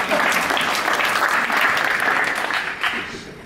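An audience at a Dutch debate event breaks into steady applause for a woman on stage. The clapping is full and close, holding strong before tapering off slightly toward the end.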